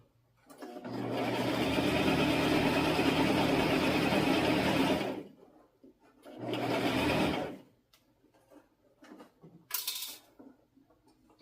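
Sewing machine stitching a dress, one long burst of fast even whirring, a short second burst after a pause, then a few faint clicks and a quick whir.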